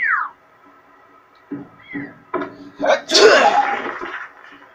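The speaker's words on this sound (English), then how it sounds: "That was a fake sneeze." A person makes a loud, exaggerated fake sneeze, building with a few short sharp breaths before a burst, and a slide-whistle-like squeak comes before it. Voices mix in around the sneeze.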